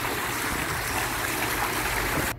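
Water in an outdoor fountain splashes and trickles steadily, a dense close wash of falling water with no pause.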